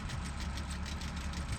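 A tractor engine idles steadily close by, a loud low rumble with an even knocking pulse running throughout and no one speaking over it.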